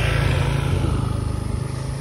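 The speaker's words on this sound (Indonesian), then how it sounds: "Tuh ada motor lewat." A motorcycle engine drones steadily as it passes along a rural path, a continuous low rumbling hum that pulses slightly toward the end, moderately loud with no voices.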